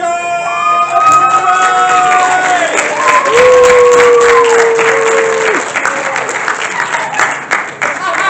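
A stand-up comedy audience greets a comedian with loud applause and cheering, clapping filling the room while whoops and a sustained voice rise over it, fading slightly near the end.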